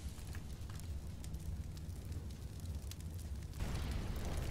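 A grenade explosion in Counter-Strike on the Mirage map, heard as a low, rumbling, noisy burst that carries on steadily and swells slightly louder near the end, faint and with no voices.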